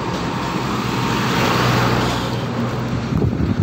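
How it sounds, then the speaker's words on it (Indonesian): A truck rumbles past on a very busy road, its broad engine and tire roar swelling and holding steady at close range, with continuous traffic noise and wind behind it. "truk lewat."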